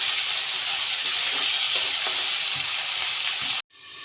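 Jackfruit pieces fry with salt in a covered pan, giving a steady, loud sizzle and hiss that runs unbroken for several seconds before cutting off abruptly near the end.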